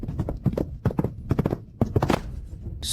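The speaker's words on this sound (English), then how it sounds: "Crown Prince, stop the horse." Horse hooves clip-clop in a quick, uneven rhythm of sharp knocks close by, with faint background noise.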